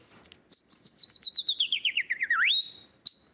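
A person whistles an imitation of a southern chaffinch song: a rapid run of about a dozen descending trilled notes ending in a sweeping flourish, followed by a short extra note, loud and close, with no talking.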